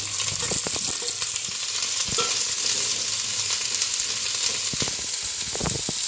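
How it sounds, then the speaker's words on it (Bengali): Sliced onions frying in hot white oil until crisp, a loud continuous sizzle with frequent stirring clacks and scrapes clustered near the start and again toward the end. "পেঁয়াজ ভাজা হচ্ছে, বেরেস্তা তৈরি হচ্ছে।"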